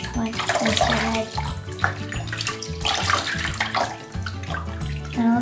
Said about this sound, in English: I'm gonna rinse your face again. Rinse your head.